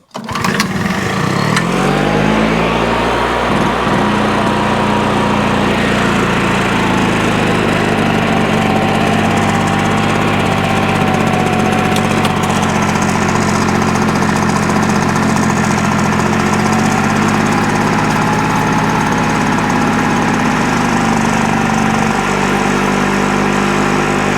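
A petrol lawnmower engine catches and runs loud and close for the whole stretch, a steady throbbing idle with slight shifts in pitch and no voices over it.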